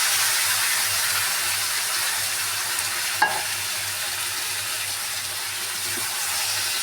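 Potatoes and pointed gourd frying in oil in a pan as spices are added, a steady close sizzle with one sharp stir or clink partway through.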